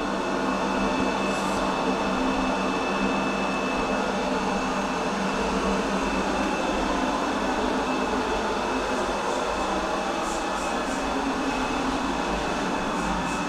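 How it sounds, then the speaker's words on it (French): Ultenic T20 Pro robot vacuum runs at full 8000 Pa suction, giving a loud, steady whirring hum with a constant motor whine and airflow rush throughout. "Donc là, l'aspirateur va développer ses 8000 pascal d'aspiration"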